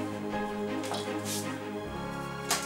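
A knife cuts spring onions diagonally on a board, giving a few spaced, crisp chops over a steady humming tonal background.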